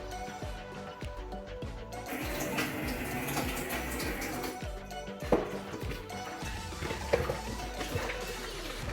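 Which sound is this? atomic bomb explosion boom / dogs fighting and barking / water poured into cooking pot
water poured into cooking pot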